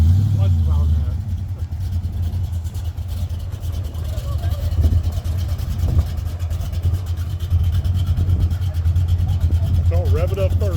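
A car engine at a church car show, running with a deep, steady rumble that swells slightly as it is revved, while voices murmur nearby throughout.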